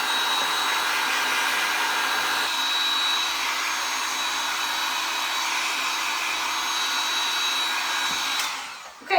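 A hair dryer blows steadily over a craft project, a loud constant whirring hiss that holds for several seconds and then cuts off abruptly at the end.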